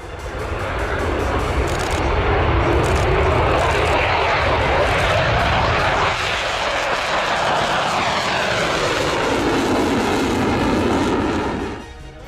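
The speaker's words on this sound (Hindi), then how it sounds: "गरजते रहे रूस के फाइटर जेट्स" Russian fighter jets roar loudly and steadily overhead during the war in Ukraine, a dense broadband rumble that only fades slightly at the very end.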